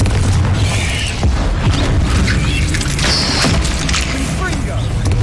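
Booming magical blasts from the Confringo fire spell in Hogwarts Legacy on PS5, loud repeated thuds and bursts amid combat effects filling the whole stretch.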